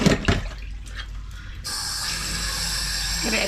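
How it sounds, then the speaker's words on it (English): Tap water runs in a sink to rinse trimmed meat, opening with splashing and clatter, then turning into a steady, fairly close stream of running water. "Give it a quick rinse."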